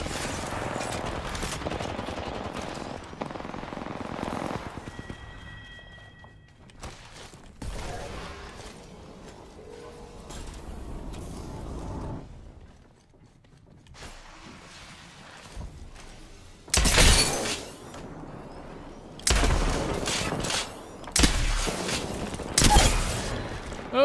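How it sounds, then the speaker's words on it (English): Gunfire from the video game Apex Legends, including a charge rifle, comes as scattered bursts and sharp blasts of varying loudness amid game mechanisms and clatter, with heavy shooting near the end. "Oh, charge rifle."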